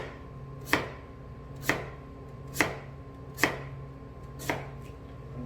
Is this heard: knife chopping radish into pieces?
yes